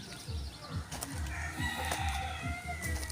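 A rooster crows repeatedly among clucking chickens on a small backyard farm, the calls fairly close and rising and falling in quick succession.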